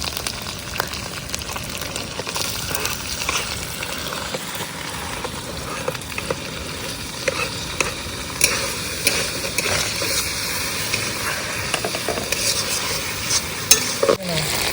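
Tomato fries in hot oil while a spoon keeps stirring it around the pan, making a continuous loud sizzle with scraping strokes and a few sharper clinks near the end, and no talk.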